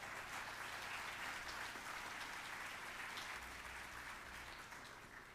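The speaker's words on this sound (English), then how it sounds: "Let's give her a round of applause." An audience at a school achievement celebration gives sustained, even applause for a student honoree, a steady wash of many hands clapping that tapers slightly at the end.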